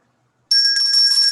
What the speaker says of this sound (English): The dinner bell.